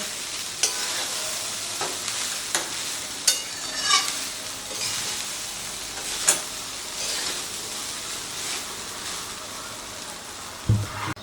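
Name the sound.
stirring rice with spices in a pan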